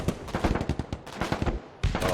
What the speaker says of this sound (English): Finish them off with mortars.